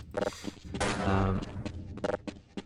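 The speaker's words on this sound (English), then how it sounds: "Nice distant sounds of shooting to give it atmosphere too." Distant gunfire rumbles through the Half-Life: Blue Shift game world, a scatter of muffled shots and a longer booming burst midway, with faint voices under the ambience.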